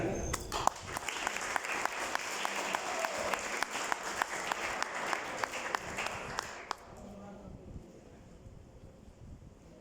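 Applause from a crowd, steady clapping for several seconds that stops abruptly, leaving quiet room noise and faint murmurs.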